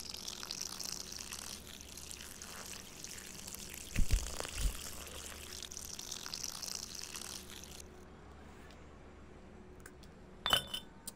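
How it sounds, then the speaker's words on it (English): A whole bottle of olive oil pours into a kitchen pan as a steady, soft, close trickle. A few glassy clinks ring out partway through and again near the end. "Pour the entire bottle of olive oil in the pan."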